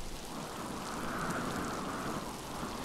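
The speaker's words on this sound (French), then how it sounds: "on y va sous la pluie" Steady rain in the video game Miasmata, an even, dense hiss of falling water that stays constant throughout with no voices.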